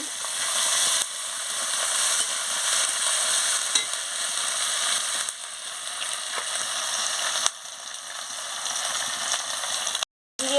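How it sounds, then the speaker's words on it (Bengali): Ginger and garlic paste fries in a pan while being stirred, a continuous close sizzle with scraping and ticking from the spatula, then a sudden brief cut near the end. "আদা বাটা রসুন বাটাটা দিয়ে দিচ্ছি দিয়ে ভালো করে ভেজে নিচ্ছি"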